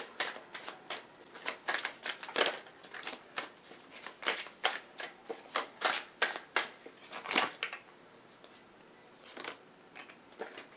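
A tarot deck shuffled by hand, a long run of quick crisp card riffles and slaps, close and fairly loud, slowing to a few scattered flicks near the end, no voices.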